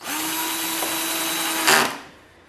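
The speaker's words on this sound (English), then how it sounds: "we have our old battery pack to drive home these screws." A cordless drill running on an old battery pack drives screws, a loud steady whir held for about a second and a half, then a brief rising burst as it finishes and the motor winds down.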